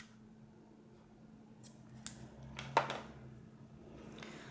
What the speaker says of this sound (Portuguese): Alongo e pode cortar o fio.